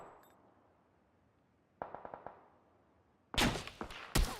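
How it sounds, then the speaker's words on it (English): Gunfire in the shooter PUBG: a quick burst of four or five sharp shots, then a silent gap, then a louder, closer volley of a few heavy reports. "Oh, now someone else is shooting"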